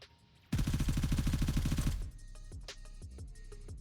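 An M4 rifle in the shooter game Gray Zone Warfare fires a rapid, loud automatic burst of about twenty rounds lasting roughly a second and a half, followed by fainter clinks and rattles as the shooting stops.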